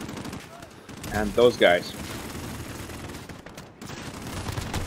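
Bursts of gunfire crack through a Call of Duty: Modern Warfare (2019) multiplayer match, a dense cluster of shots in the middle over continuous rattling battle noise, with someone talking.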